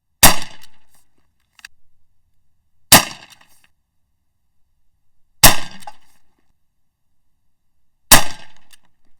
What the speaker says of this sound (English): that's the end of the first 8 shots.